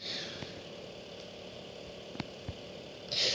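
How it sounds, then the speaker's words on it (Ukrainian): Motorcycle engine in the video game Hypper, a steady low idling rumble with faint rattling and a couple of brief clicks, rising into a louder burst near the end, with no talking. "Я зараз на мотоциклі жену."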